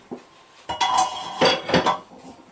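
A metal centre bar drops through a manual motorcycle tyre changer with a few sharp, ringing metallic clanks, close and loud, separated by short pauses.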